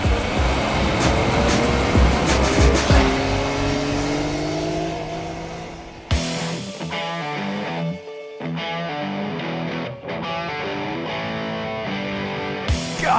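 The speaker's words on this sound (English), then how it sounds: "God, I love tearing it up on the pavement with this motorcycle." A motorcycle on pavement: its loud engine revs and roars continuously, pitch climbing and dropping as it accelerates and shifts, with a brief cut in the roar midway.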